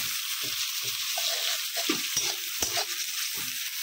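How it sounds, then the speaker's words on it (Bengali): Onions frying in a pan until brown, a steady high sizzle with repeated scraping stirs and clinks of a spoon against the pan, close and moderately quiet. "পেঁয়াজগুলো একদমই ব্রাউন ব্রাউন করে ভেজে নেব"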